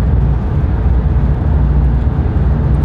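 Mercedes C63 AMG with about 600 hp cruising on a long road, its engine a steady, loud low drone with continuous road and wind rumble throughout, no talking.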